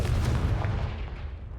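A Confringo fire spell blast in a Harry Potter video game, one loud booming impact right at the start with a deep rumbling tail that fades out over a second or so.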